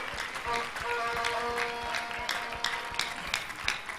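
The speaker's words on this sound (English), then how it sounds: "Oh, can we clap for Jesus?" A church congregation claps and cheers, the clapping scattered and irregular beneath singing voices and crowd noise.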